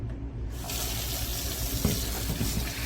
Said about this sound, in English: you want to rinse the rice off first